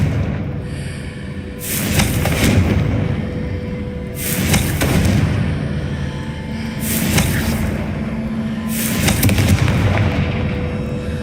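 Confringo fire spell blasts in the Hogwarts Legacy game, a series of loud booming explosions recurring roughly every two seconds over a continuous rumbling background, with no speech.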